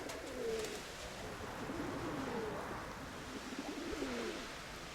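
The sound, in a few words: pigeon or dove arriving and cooing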